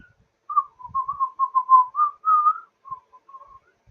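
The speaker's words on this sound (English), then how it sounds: "Whistle named that tune." A person whistles a brief melody for a name-that-tune game, a lively run of clear, close notes that fades into softer tones at the end.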